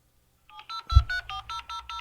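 An old telephone rings in a rapid warbling burst of repeated electronic pulses, preceded by a soft thump, close and clear.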